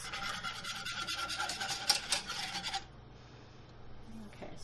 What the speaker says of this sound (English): And get a whisk.